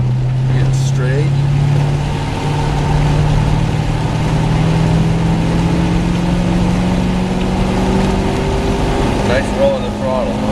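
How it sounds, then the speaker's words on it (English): Car engine pulling along a race track in the rain, a steady mid-pitched drone that rises slowly in pitch, heard from inside the car with road and rain noise and no talking. "Nice roll in the throttle, huh?"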